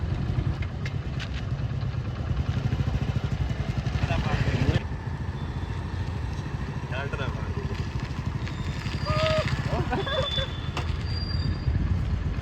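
A motorcycle being ridden gives a continuous, steady engine drone throughout, with some rattles and brief higher squeals over it and faint voices in the background.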